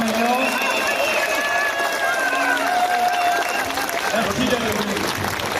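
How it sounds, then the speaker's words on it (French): Applause at a French political speech rally, a full crowd clapping continuously with raised voices and calls mixed in over the top. "vous pouvez encore l'applaudir"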